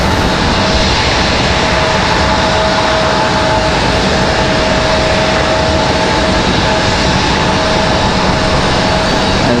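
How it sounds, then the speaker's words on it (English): A Delta airliner in from Detroit rolls on the runway at Raleigh-Durham International Airport, its jet engines giving a loud, unbroken roar that holds steady throughout. "As Delta from Detroit gets off the runway."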